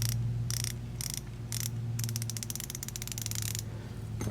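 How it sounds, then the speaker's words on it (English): An Icon ratchet clicks in quick bursts of fine, rapid pawl ticks, close up, first in short separated strokes and then in a longer continuous run, over a faint steady background hum. "this seems like it's going to be a pretty good little ratchet"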